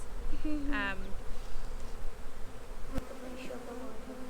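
Backyard honey bees hum steadily during a spring hive inspection, a close, continuous buzz with a brief faint voice-like sound early on.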